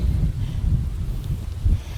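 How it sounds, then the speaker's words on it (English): Low, gusty wind buffets the microphone in an uneven rumble, rising and falling for two seconds with no other sounds. "Trouble is, it's pretty windy."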